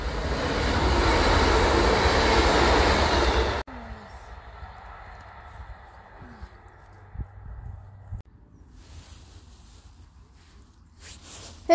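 A Class 170 train runs past on the line from Collingham towards Hull, starting as a loud, close, broadband rumble and roar that cuts off sharply after a few seconds, followed by quieter ambient noise with faint voices.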